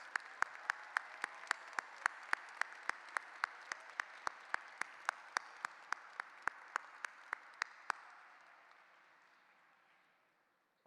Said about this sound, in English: So a round of applause for all of our master's degree graduates.